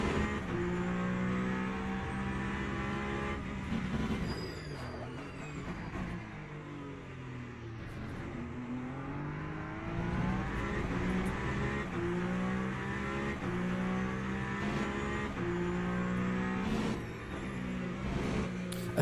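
A Le Mans Ultimate hypercar drones loudly and steadily, its engine pitch rising and falling through the corners while rear wheelspin and traction control intervention add a faint stuttering edge.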